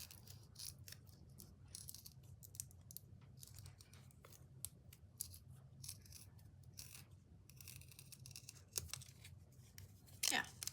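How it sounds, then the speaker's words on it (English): Scissors snip through paper to cut out round flower petals for a recycled crocus craft, a series of small crisp cuts and rustles scattered across the stretch, fairly faint and close, with no talking over them. "So I'm just gonna cut the petals."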